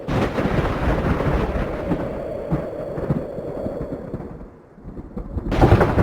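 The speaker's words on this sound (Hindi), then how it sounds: "बारिश नहीं, आंधी आ गई है" A rumbling cartoon thunderstorm effect rolls and booms steadily, dips briefly, then surges back loud at the end, as a windstorm strikes a shop with a tarpaulin roof.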